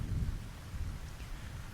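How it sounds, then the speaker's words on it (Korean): Heavy rain pours down in a dense, unbroken roar with a deep rumbling low end, steady and close throughout. "진짜 지금 이 배경은 마냥 억수로 많은 비가 내리기 시작한 겁니다."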